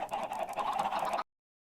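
Minecraft chickens, a steady fowl-like clucking and honking with a continuous mid-pitched chatter, loud and close, lasting just over a second before cutting to silence.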